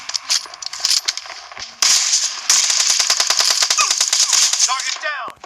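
Gunfire in the mobile battle-royale game PUBG Mobile Lite: loud, rapid automatic bursts, first choppy and broken, then a long sustained stream of shots, with faint whistling and pinging sounds near the end.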